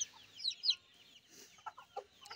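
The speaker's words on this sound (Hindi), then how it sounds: "ये देखिए मुर्गियाँ जो है दाना खा रही हैं" Desi village chickens eating grain give several short, faint clucks and soft chirps, close by, in a quiet yard.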